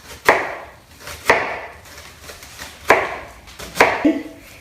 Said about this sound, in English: I'm just going to cut a little bit of that off, and I'm going to make little slices